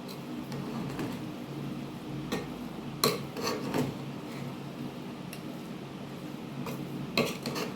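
A spoon scrapes and clinks in a pot as mutton tehari is stirred with fried onions, giving soft rasping rubs and a few sharper metallic knocks, fairly quiet and close.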